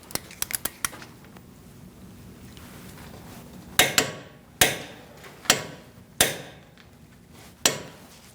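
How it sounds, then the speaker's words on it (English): Torque wrench clicking as it tightens brake caliper bolts on a Chevrolet Cruze: a few quick light ticks, then a series of sharp, loud, evenly spaced clicks from close by, with no talking. "Let's torque these to 111 foot-pounds"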